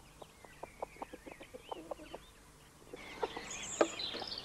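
Chickens kept in a permaculture setting cluck in a quick, steady series of short calls, faint and a little distant, with a few sharper, louder squawks near the end.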